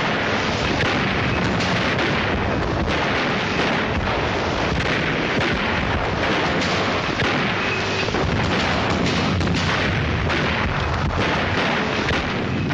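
Heavy artillery fire in the mountains of Alsace during the Second World War, a dense, continuous roar of booms and blasts that stays loud throughout with no pauses, carried on an old archival film soundtrack.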